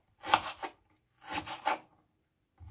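A knife slices slightly frozen chicken fillet into small cubes on a cutting board, giving two short bursts of close, rasping cuts separated by a pause, with no talking.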